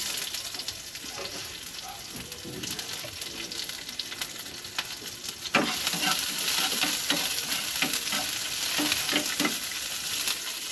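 Onions fry and sizzle steadily in a pan as they are stirred, with scraping and clattering stir strokes over the constant hiss, growing louder and busier partway through.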